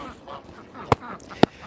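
Inside a goose shed, a flock of geese sits under low background rustle, and two short, sharp honks sound about half a second apart near the end.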